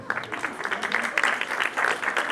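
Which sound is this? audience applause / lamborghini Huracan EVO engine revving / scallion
audience applause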